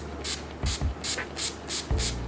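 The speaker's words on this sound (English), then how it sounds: "this side I'm going to use this setting spray" NYX makeup setting spray is misted onto the face in six short, soft hissing bursts with a steady rhythm, heard close up over a faint background hum.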